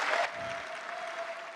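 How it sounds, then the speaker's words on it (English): Applause from a pitch-competition audience: a brief full burst of clapping that quickly drops to a thinner, steady patter, with a faint ringing tone sustained underneath. "A much louder applause for him"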